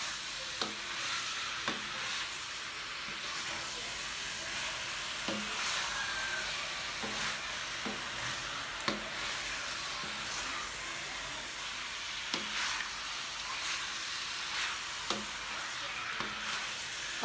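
Chicken woku, a Manado dish, stirred and frying in a pan: a steady sizzle and hiss runs throughout, broken by regular scraping knocks of the spatula every second or so, close and alone without talk.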